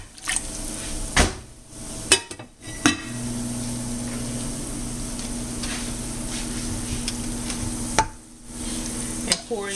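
Shrimp poured and stirred into a pan of cheese sauce for shrimp Alfredo, a steady loud sizzle with scraping stirs and a few clanks of utensil against pan, no talking.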